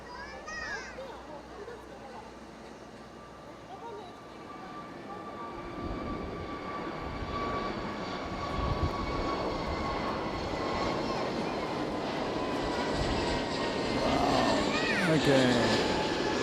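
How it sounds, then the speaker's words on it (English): A Peach Aviation airliner takes off at Fukuoka Airport, its engine roar heard from a distance and swelling steadily louder, with voices talking over it. "here's Peach taking to the air"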